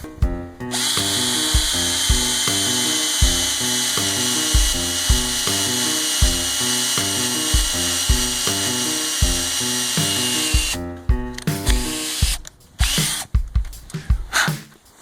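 A power drill whirs steadily and loudly for about ten seconds while boring a tap hole about 2.5 to 3 inches into a maple tree, then stops and starts in short bursts.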